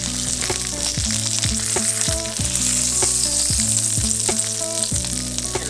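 Pork sausage fries hard in a hot greasy pan, a loud steady sizzle crackling throughout with periodic scraping as it is stirred and turned.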